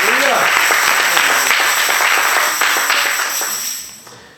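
A church congregation applauds and cheers loudly in a dense, continuous burst of clapping mixed with shouting voices that fades out toward the end.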